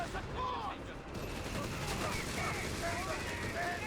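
Artillery barrage in a Company of Heroes 3 match, with dense overlapping gunfire and shell impacts running continuously at steady loudness, while a commentator talks over the battle.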